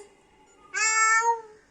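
A single drawn-out meow, clear and close, voiced by a child imitating a cat, following a brief quiet moment.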